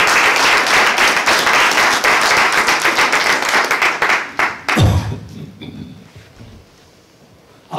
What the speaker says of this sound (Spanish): le pongo el aplauso para Cristo.